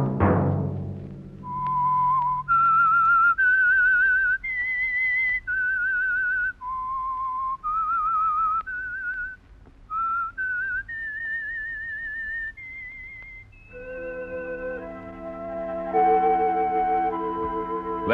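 A single person whistles a clear, slow melody of sustained notes and short phrases, loud and close, with no talk; a low chord fades out at the start and soft accompaniment joins near the end.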